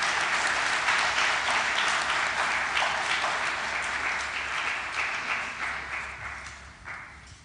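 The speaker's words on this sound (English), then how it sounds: "I think our chairperson deserves a round of applause at this stage" An audience at an annual science lecture on food and public health applauds the chairperson with steady, dense clapping that fills the hall and slowly tapers toward the end.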